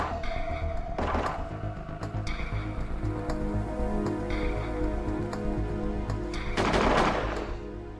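Rapid gunfire in the space colony sim Space Haven, with bursts of shots over a dense, steady game soundscape and two louder, noisy blasts standing out.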